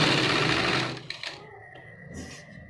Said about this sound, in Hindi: सेंटर से मिला के सिलाई चलाएंगे